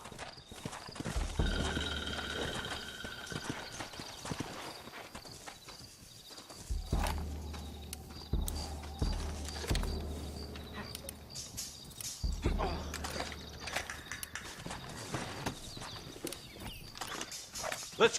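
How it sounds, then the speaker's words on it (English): Rapid clip-clop of horse hooves at a gallop in the video game Red Dead Redemption, with a whinny and scattered footsteps, the pace shifting between bursts. "Looks like Carlos left us some horses"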